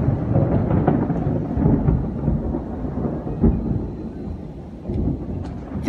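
A deep, loud rumble of thunder rolls on for several seconds, with broad low booms and a few sharper cracks over steady storm noise.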